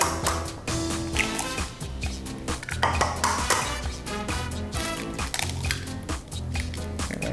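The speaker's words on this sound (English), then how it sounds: "you always want to break your eggs in a separate bowl just in case you get any shells" Two eggs are cracked into a separate bowl among busy kitchen clatter, with sharp taps of shell on the rim, clinks of bowls and utensils, and light splashes, close and fairly loud.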